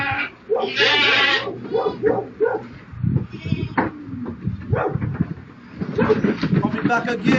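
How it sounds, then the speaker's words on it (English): Goats bleat repeatedly and close by in a livestock setting, loud wavering calls overlapping, with someone talking between and over them and some animal noise in the background. "And these are not cheap goats, everybody."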